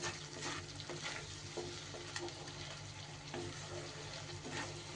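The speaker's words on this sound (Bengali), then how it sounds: "সুন্দর করে এবার মশলাটা একটু কষিয়ে নিতে হবে।" Spice paste sautéed over medium heat in a pan, a loud continuous close sizzle with repeated scraping strokes of a stirring spoon, no voices.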